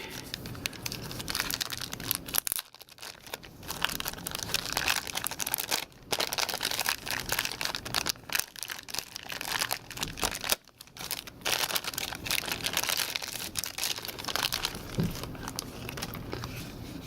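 A Zoom H1 Handy Recorder being unboxed, with close, continuous crinkling and rustling of packaging plus occasional tearing, brief pauses breaking up the handling noise.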